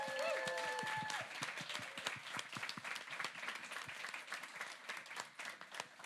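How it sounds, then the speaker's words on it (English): Audience applause at a Pride question-time panel event, a dense spread of many hands clapping at moderate distance, strongest at the start and continuing steadily with slight fading, with faint voices mixed in. "Give Kit a round of applause"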